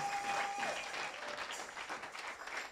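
A church congregation at a seminary service applauds and acclaims the Lord, a dense, sustained wash of clapping and cheering voices that holds steady throughout.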